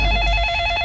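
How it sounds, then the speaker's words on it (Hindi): Telephone ringing in an Indian comedy show scene, a loud, steady electronic ring tone filling the short moment. "जरूर सुष्मिता का ही फोन"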